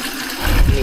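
Cold mountain river water on the Mount Gerizim trail splashes and gurgles up close, a steady rush that swells into a heavier, deeper surge near the end.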